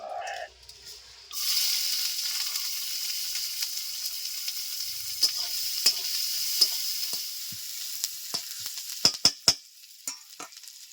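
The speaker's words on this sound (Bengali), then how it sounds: "তেল গরম হয়ে গেছে দিয়ে দিচ্ছি পেঁয়াজ কুচি" Chopped onion dropped into hot oil, bursting into a sudden bright sizzle that holds steady while sharp spatula scrapes and taps punctuate it, growing denser toward the end; no talking.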